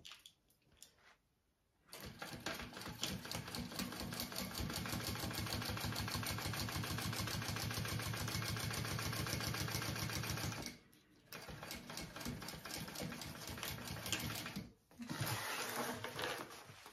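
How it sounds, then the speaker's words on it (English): A sewing machine stitches fabric for a small fold-and-zip backpack, a steady close rapid chatter that runs for long stretches, halts briefly twice, then resumes; no talking. "I'm going to stitch along this piece as well"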